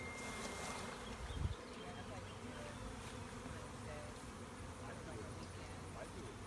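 Honeybees swarm densely over a person's face and chin to form a bee beard, a steady close-up buzzing hum that holds at an even level throughout, with a brief louder rustle early on and muffled voices beneath.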